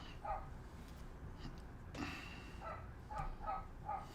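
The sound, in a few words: neighbours' dog barking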